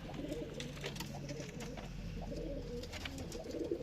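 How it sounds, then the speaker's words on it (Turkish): Pigeons coo in a dense flock, steady low murmuring calls overlapping continuously with occasional flutters, fairly close and moderately loud. "Güzel de kuşlar var maşallah."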